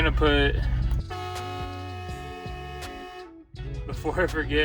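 An air horn on a 1957 Chevy blasts a loud, sustained multi-tone honk lasting a couple of seconds, with someone talking just before and right after it.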